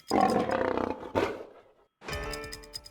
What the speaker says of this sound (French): C'était le lion